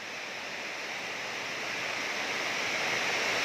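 Heavy rain pours steadily onto a high roof and runs off into a pond in rural Thailand, a dense, even hiss that swells slightly louder toward the end, with no voices.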